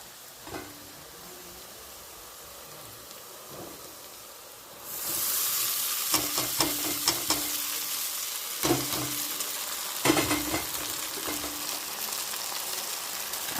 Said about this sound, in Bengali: এখনই আমি চাউমিনটা দিয়ে দেবো, দিয়ে আবার যেহেতু খানিকক্ষণ নাড়াতে হবে